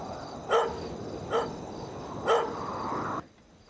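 A dog barks three times at a moderate distance, the barks spaced roughly a second apart over a low background hum.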